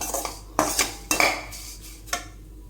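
Flattened rice (poha) stirred as it fries in a pan, giving a handful of dry scraping clatters of spoon against metal in irregular bursts, close and moderately loud.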